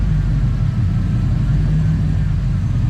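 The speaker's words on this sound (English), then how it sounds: "this car's got a weird surge going on" Third-generation car engine idling with a surge, a steady loud low rumble close by, pulsing slightly without clear rises, alone with no talk.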